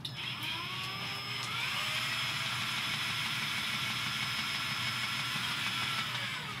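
A spin art machine whirs steadily as it spins a painting, a constant motorized hum with a slight rise in pitch near the start, heard alone at moderate volume.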